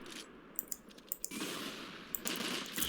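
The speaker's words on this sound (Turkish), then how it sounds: "Buradan birileri vuruyor ama." A video game shooter, with faint gunshots crackling in short bursts, several sharp single cracks, then denser sustained fire, and keyboard and mouse clicks in the mix.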